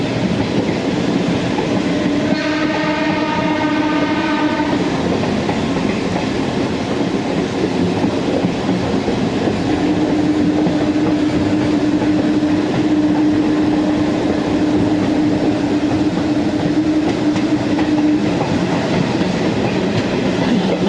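A loud diesel train horn sounds briefly early on, over continuous train rumble and clatter; a lower steady tone hums through the middle.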